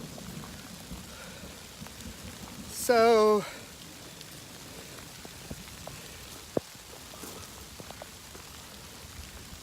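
Steady rain patters across a forest trail at Pigeon Roost Trail in Arkansas, a soft continuous hiss. Someone briefly speaks over it.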